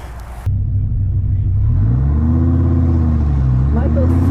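A car engine at an autocross event holds a steady low rumble that rises in pitch as it revs and accelerates, loud and close, running continuously after a brief quieter start.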